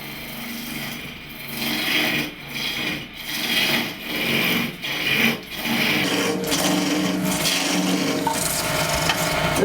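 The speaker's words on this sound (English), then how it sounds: "This is what you call taking the rough off. That's when you use the roughing out gouge." A roughing gouge cuts a wooden goblet spinning on a wood lathe, producing a continuous loud, gritty scraping hiss that dips briefly in a steady rhythm as the tool shifts, then runs on unbroken, close up with no talk.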